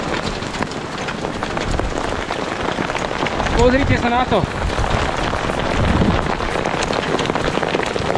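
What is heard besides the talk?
large hailstones falling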